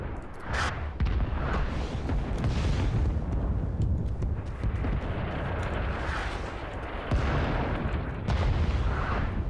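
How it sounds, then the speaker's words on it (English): Napalm strikes in the Vietnam-era shooter Rising Storm 2: Vietnam roll out as a long series of heavy booming bursts and crackling roar, with sharp blasts near the start and toward the end over continuous rumbling battle noise. "There's that napalm."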